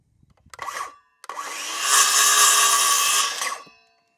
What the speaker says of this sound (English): Tools of choice: the old garden rake, DeWalt battery powered skill saw.